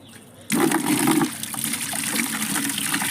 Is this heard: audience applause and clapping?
no